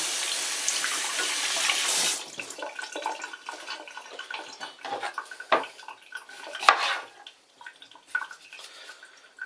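Tomatoes for tantuni are washed under a running kitchen tap, a steady rush of water at first, then sloshing, drips and clinks of dishes and utensils in the sink.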